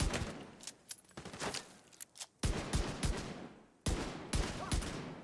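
Rapid gunfire in a video game comes in sharp, loud bursts of quick shots, broken by brief pauses between volleys.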